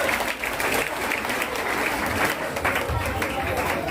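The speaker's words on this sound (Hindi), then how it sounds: "जोरदार तालियां।" Loud, dense audience applause fills a church hall during a Christmas drama skit, a steady wash of clapping hands with crowd noise throughout.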